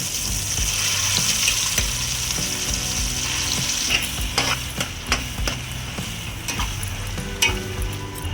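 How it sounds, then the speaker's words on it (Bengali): A mixture of ground jackfruit seed and grated coconut fries in hot oil over a low flame, sizzling loudly and evenly at first, then giving way to a few sharp clinks and scrapes of stirring. "এবার এটাকে ভালো করে আমি তেলের মধ্যে ভেজে নিচ্ছি।"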